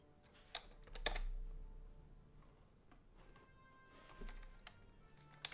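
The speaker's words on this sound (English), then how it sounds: "So let me type." Keys clack on a computer keyboard in short, quiet bursts, with a few sharper taps standing out. Nobody talks.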